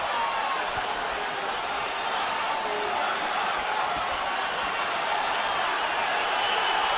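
Boxing arena crowd roaring in the closing seconds of the Golovkin vs Canelo Alvarez fight, a dense continuous wash of cheering and noise filling the space, with a commentator's voice over it.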